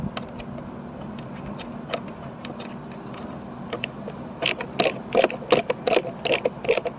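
Screws are driven into plastic on a Ford Transit Mk8 wing mirror, with quick ratcheting clicks that grow denser and louder toward the end, close up over a faint low background hum.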